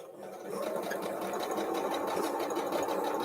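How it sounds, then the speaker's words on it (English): A sewing machine runs at a steady, even hum, quilting a 12.5-inch heart quilt block with a 2-inch border piece, its needle whirring continuously and close by. "Now I'm quilting it"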